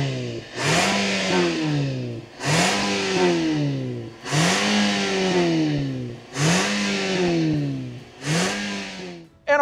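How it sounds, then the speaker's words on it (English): A 2024 Toyota Camry TRD engine revs hard five times in a row, each burst climbing in pitch then dropping off, loud and close with no talking. "Listen to that engine."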